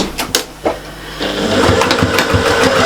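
A few light clicks, then a sewing machine whirs steadily into a seam on a patchwork and appliqué cushion, its rapid stitching chatter close and continuous to the end.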